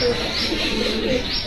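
A high-flying champion pigeon coos softly and steadily at close range, a brief low murmuring call against a faint background hiss.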